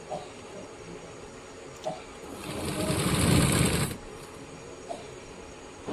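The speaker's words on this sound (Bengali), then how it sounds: "আমরা পুরো রাউন্ডটি সেলাই করে নিচ্ছি" A sewing machine stitches fabric for a child's pants in one buzzing run of about two seconds, close and loud, with quiet handling clicks before and after.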